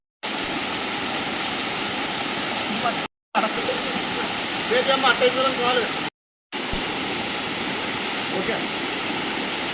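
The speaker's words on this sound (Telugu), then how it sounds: "మేము దారపల్లి వాటర్ ఫాల్స్కి వచ్చాం" Darapalli waterfall rushes in a broad, steady roar of falling water that fills the scene, broken by brief cuts, with a short spoken word and some murmuring voices over it.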